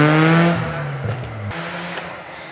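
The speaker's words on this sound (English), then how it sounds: "Car sounds great, it runs great." Supercharged Mazda Miata, set up for drifting, revs briefly and then pulls away, its engine note falling and fading as the car moves off.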